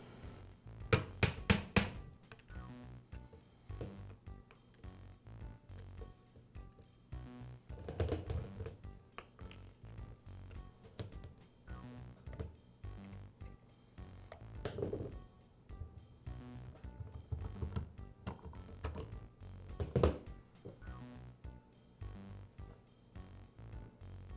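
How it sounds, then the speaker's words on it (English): Two halves of a Makita drill gearbox being pried and worked apart, giving scattered metallic knocks, taps and clicks at close range, with a cluster of sharper hits near the start and occasional louder thuds throughout. "Now I'll separate the two halves of the gearbox."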